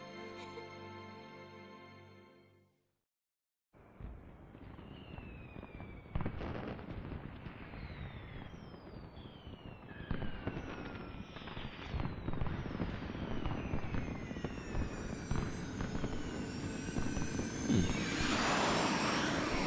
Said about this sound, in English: Gotta love these fireworks.